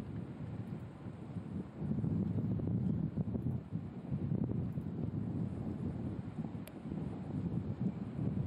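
Wind gusting across a golf course during the final round of a women's professional tournament, a continuous low buffeting rumble against the microphone with no clear voices.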